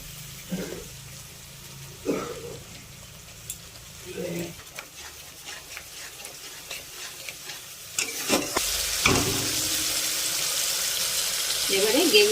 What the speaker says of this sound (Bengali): মশলা থেকে তেল ছাড়তে শুরু হয়েছে হ্যাঁ, আর অল্প একটু জল দিয়ে ভালো করে মশলাটা মিশিয়ে নেব